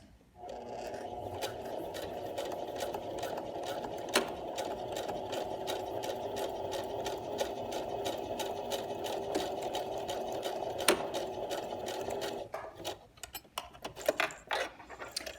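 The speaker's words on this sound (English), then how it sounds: "So let's stitch across there and get that secured" A sewing machine runs a half-centimeter stitch across a messenger bag seam, a steady close motor whir with rapid needle ticking for about twelve seconds before it stops and a few handling clatters follow.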